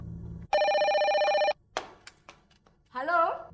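A telephone bell rings in one steady burst of about a second, loud and close, followed by short bumps and a brief sliding voice-like sound.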